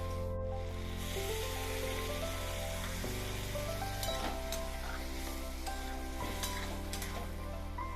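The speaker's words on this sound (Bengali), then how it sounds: "টমেটো কুচি দিয়ে সামান্য নেড়ে চেড়ে দিয়ে দেবো জলে গোলা সর্ষে বাটা" Chopped tomato frying with mustard paste mixed in water for a home-style greens curry, stirred in a pan with a continuous near sizzle and occasional scraping strokes, over a steady droning hum.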